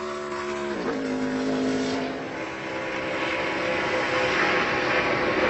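NASCAR race car engine roaring on the track during qualifying at Michigan, a loud high-pitched drone that drops sharply as the car passes and then builds again at a distance.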